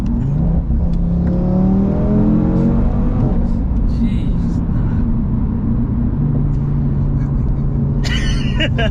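Audi RS3 tuned to 650bhp with a five-cylinder engine pulling hard, loud and close from inside the car, its note climbing through the gears under brief talk and laughter.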